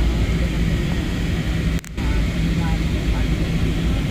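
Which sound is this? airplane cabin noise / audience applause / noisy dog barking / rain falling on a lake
airplane cabin noise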